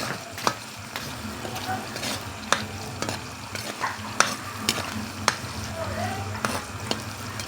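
Balbakwa beef stew is stirred in a pot on a wood-fired stove, with a spoon scraping and knocking against the pot in irregular clicks over a steady, close sizzle.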